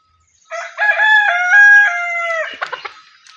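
A rooster crows once, loud and close, with a long drawn-out call, followed by a few short clucks from free-range village hens with chicks at the end.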